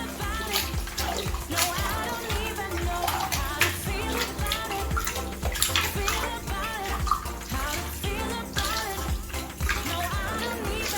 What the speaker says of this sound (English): Let's put water.